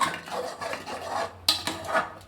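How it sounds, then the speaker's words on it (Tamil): A utensil scrapes and clinks against a pan while masala gravy fries and is stirred, several close, uneven strokes with no voices. "இப்போ இந்த மசாலா நல்லா இது நல்லா ஃப்ரை ஆகணும்."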